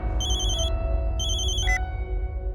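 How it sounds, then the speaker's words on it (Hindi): A phone rings for an incoming call in two electronic tone bursts, moderately loud over a low steady background hum, with no one speaking. "आपके फातिमा वाले नंबर पर पाल का फोन आ रहा है।"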